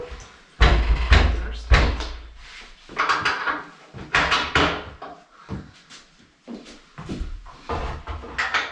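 A wooden door in a 100-year-old house, just rehung on its hinge pins, opens and closes several times with loud close thuds, wooden knocks and creaks, followed by brief scuffing handling noises.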